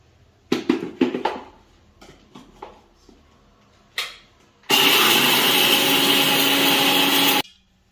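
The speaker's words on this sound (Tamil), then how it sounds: "இப்போ நம்ம வறுத்ததெல்லாம் மிக்ஸி ஜாரில் போட்டாச்சு. இப்போ அரைச்சிக்கலாம்." After a few clattering knocks, a mixer grinder grinding roasted spices for mutton biryani whirs loudly and steadily for about three seconds, then stops abruptly.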